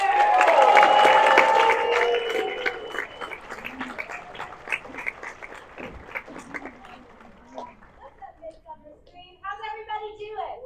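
Applause and cheering from a convention audience at Midsummer Scream 2025 as a panelist takes the stage: a loud, dense burst that thins after about two seconds into scattered, fading claps and crowd murmur.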